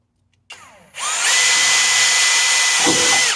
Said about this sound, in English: Now I'm just gonna take an 1/8 inch drill bit,